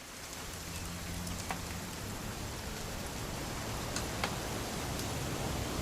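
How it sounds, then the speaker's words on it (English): Steady rainfall in the video game What Remains of Edith Finch, a dense, even hiss of drops pattering on surfaces with a few brighter ticks, constant and alone without voices. "It's gonna rain the whole weekend, isn't it?"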